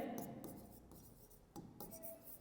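A marker or chalk is scratched and tapped against a board during a physics lesson, making short scraping strokes with small knocks between them, close and fairly quiet.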